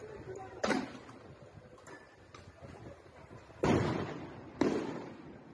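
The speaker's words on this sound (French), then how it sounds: "Des tirs de lanceurs de balles et de grenades se font entendre dans toute la capitale." Distant launcher and grenade shots during riots in Nouméa, New Caledonia: a few dull, booming thumps spread over a few seconds, two louder ones near the end, faint against low background noise.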